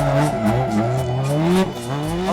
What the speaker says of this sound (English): Hopefully, just sliding this car around.